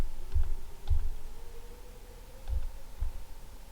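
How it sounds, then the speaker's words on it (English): Computer keyboard keys are pressed during an After Effects tutorial, a handful of soft, dull taps spaced irregularly over a faint steady hum. "Press shift with plus on keyboard"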